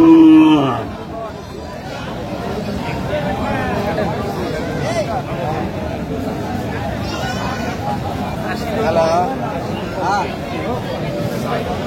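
Sahiwal cows and calves low and moo amid a busy outdoor cattle market crowd, animal calls rising over steady chatter and babble of many people.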